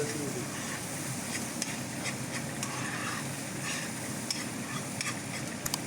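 Brains frying with salt, black pepper and paprika are stirred in a pan, a steady sizzle with scraping utensil strokes and a few sharp clicks, close and continuous.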